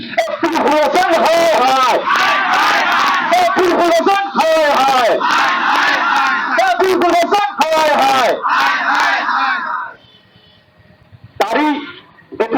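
A protest crowd chants slogans back in unison, loud rhythmic group shouts repeating in waves for several seconds before dropping to a quieter pause and a final burst.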